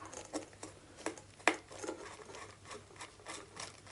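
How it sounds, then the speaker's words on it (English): A screwdriver drives screws into a guitar pedalboard with faint, close, irregular ticks and scraping turns, spaced unevenly over a few quiet seconds with no speech. "So just put the screw in first. Screw these boys in."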